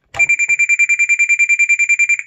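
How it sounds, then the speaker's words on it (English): A TA-1042 military field telephone rings with a sharp electronic warble, about twenty rapid even pulses in one steady, loud burst at close range, starting after a brief click and then cutting off cleanly, with no talking. "ringing phone to phone is very, very simple"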